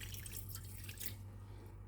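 A small splash of water poured into a teaspoon each of chia and flax seeds, a brief soft trickle and drip, close and quiet.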